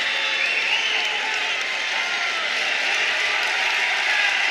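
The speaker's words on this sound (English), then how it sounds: "Gets the crowd on their feet here in Reynolds." A college wrestling crowd in Reynolds rises to its feet, cheering and applauding in a loud, sustained roar of many voices that fills the arena without a break.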